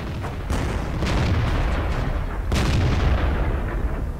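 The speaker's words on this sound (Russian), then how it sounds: "И еще один выстрел." Two heavy booming tank cannon shots in World of Tanks, the second at about two and a half seconds, each with a sharp attack and a rumbling tail over steady low battle noise.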